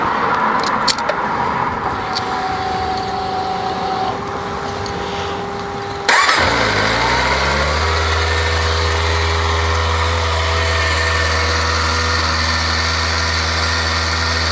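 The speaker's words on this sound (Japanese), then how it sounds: "初めてエンジンをかけます。" A Kawasaki ZX-25R motorcycle, its engine still cold and running on fresh oil, cranks briefly and fires up loud and close. It then settles into a steady, high-pitched idle with a low rumble after a stretch of background noise.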